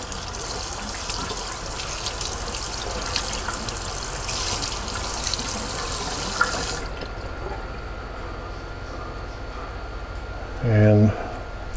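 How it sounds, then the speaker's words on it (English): Cold tap water runs steadily over a motorcycle part from a Vulcan 750 project bike, a broad continuous gush that cuts off partway through, leaving quiet room tone and a brief low thump near the end. "Run it under cold water."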